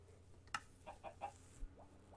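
Minecraft chickens cluck faintly in the game, a few short separate clucks spaced across the moment, quiet and somewhat distant over a low background hum.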